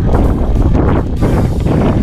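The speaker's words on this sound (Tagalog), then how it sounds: "Buti na lang mahangin." Steady wind buffeting the microphone on a bike ride near Cape Santiago Lighthouse in Calatagan, Batangas, a continuous low rumble that stays loud throughout with no voices.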